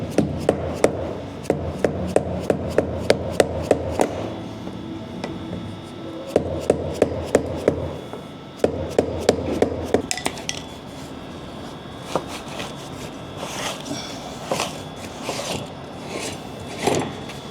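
A dead blow mallet hammers a locking ring on the fuel tank of a 1999-2010 Ford Super Duty, sending out rapid bursts of sharp metallic knocks in fast runs separated by pauses, followed by scattered lighter taps.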